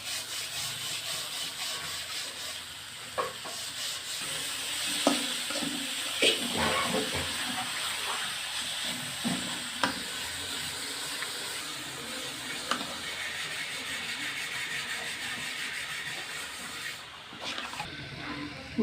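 Khesari (koloi) greens are stir-fried in a pan, a constant sizzle under repeated scraping and rubbing strokes of a spatula, with occasional sharper knocks, no voices.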